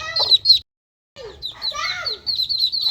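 Bright, high chirping peeps from several ducklings, clustered in quick bursts, close by, with a brief silent gap partway through.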